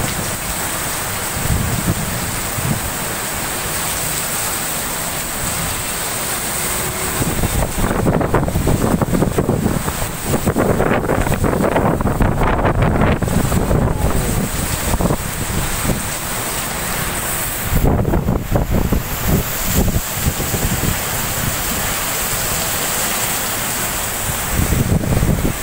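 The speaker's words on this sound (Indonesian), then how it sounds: "Angin kencang di Jalan Pemuda Perempatan Lampu Merah Kesuma." Strong wind buffeting the microphone at a traffic-light crossroads on Jalan Pemuda in Nabire, Papua, a loud continuous roar that surges in heavy gusts, with rain-like hiss throughout.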